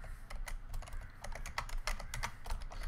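Quick, quiet keystrokes clatter on a computer keyboard in an irregular run of light taps, close and soft, with no talking.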